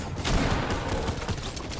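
Dense, loud bursts of sniper rifle and other gunfire in Fortnite Battle Royale, packed into a continuous crackling barrage with no talk over it.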